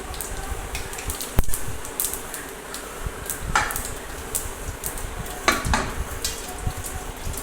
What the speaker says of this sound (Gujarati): તેલ તપી ગયું છે હવે નાખીશું સૂકા મસાલા